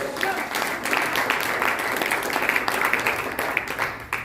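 A church congregation claps during a Spanish-language sermon, a thick, continuous burst of many hands that holds evenly for a few seconds in a reverberant room.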